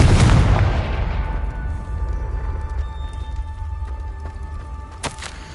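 A Confringo blasting spell explodes in Hogwarts Legacy on PS5 Pro, one loud, deep boom that rolls off over a second or two into a low rumble, followed by faint magical tones and a small crackle.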